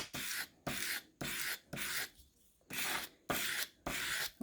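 A saddlery knife blade being sharpened, steady back-and-forth rasping strokes in an even rhythm of about seven passes, close and clear, with a short pause midway.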